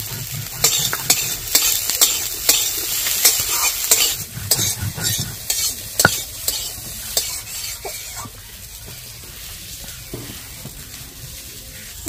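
A filling of fried ingredients and chopped green chilli sizzles in a pan, with a spoon scraping and clinking against the metal in repeated strokes over a steady hiss.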